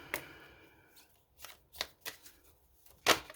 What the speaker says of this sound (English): I will start shuffling